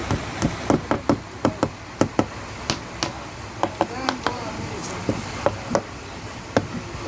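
A pin is hammered into a Bangladeshi cricket bat under repair, sharp close knocks landing in an irregular run of about two dozen strikes over a low steady background.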